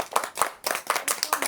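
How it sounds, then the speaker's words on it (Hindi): A group claps hands together in a quick, even rhythm at a Bhalyani Kahika gathering, close and fairly clear, with a short pause partway through. "चलो ताली बजाओ सब।"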